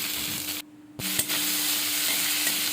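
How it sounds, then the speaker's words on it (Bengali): Onion, ginger, garlic, chilli and tomato fry loudly in a pan for paneer bhurji, a close hissing sizzle that cuts out briefly and then returns with a couple of sharp stirring knocks. "এটা ভালো করে আগে ভেজে নেব।"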